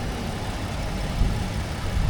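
A 2019 Ford F-150 with a 2.7 turbo engine running at idle, a steady, low, even rumble heard up close with no talking.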